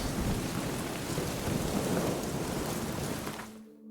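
Heavy rain and rumbling thunder in a video game, a dense, loud, continuous downpour roar that holds steady before cutting off abruptly near the end.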